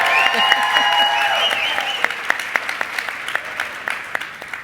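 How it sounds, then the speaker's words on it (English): Audience applause for an IBEW union member at a talk on engaging learning and career and technical education, a dense wash of clapping that starts over a held tone and thins into scattered claps. "Let's give him a big round of applause."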